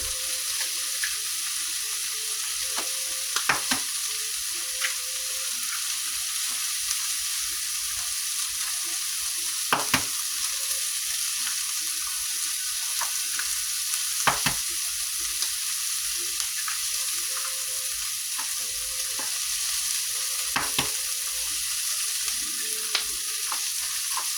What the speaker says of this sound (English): So now I'm just going to crack some eggs in my bowl.